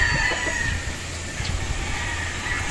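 Joe Goode Grey gamefowl chickens, pullets and a brood stag on a gamefarm, faint clucking and fowl calls over a noisy, breezy outdoor background with a steady hum.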